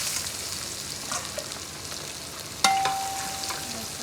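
Green chilies and coconut pieces fry in hot oil for a hotel-style beef fry, a soft continuous sizzle broken by one sharp metallic clink that leaves a faint ringing tone.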